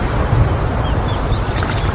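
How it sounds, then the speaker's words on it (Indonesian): Sea waves slap and wash against a small boat off the east coast of Sumatra, a steady loud rumble of water mixed with wind buffeting, continuous with no talk. "Oh, kena ombak ini ya."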